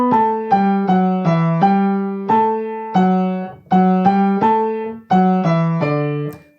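A piano phrase played legato, each held note ending abruptly with no tapering, loud and even in level through a string of sustained notes, with no talking.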